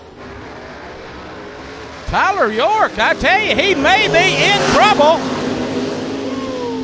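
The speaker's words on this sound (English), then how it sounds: "Wow, what a drag race that was, folks." Gasser drag cars, including a Chevelle and a Barracuda, at Mt. Olive Dragway: after a quiet stretch, engines roar to life and climb through rising, shifting revs as they race down the strip, with a commentator talking over them.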